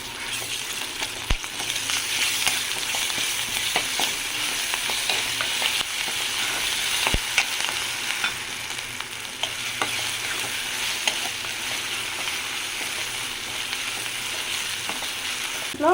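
Ginger garlic paste frying in a pan for a country crab curry gives a loud, steady sizzle up close. Occasional scraping stirs and clicks of a spoon against the pan break in, with no voices.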